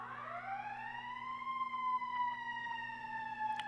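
An ambulance siren wails in a long rising, then sustained tone with bright overtones. It stays steady and moderately loud throughout, with no talking.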